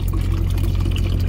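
Drinking water poured from a kitchen-sink supply into a container already holding a little leftover coffee, heard as a steady, close, continuous pour with a low rumble underneath and no talking.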